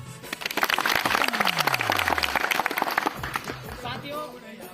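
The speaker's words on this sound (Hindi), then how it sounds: "सभी युवा साथी लेकर ताली बजा दें।" A young crowd claps in a dense burst of many hands, loud and sustained for a few seconds before thinning out, with a falling whistle-like tone and some talk mixed in.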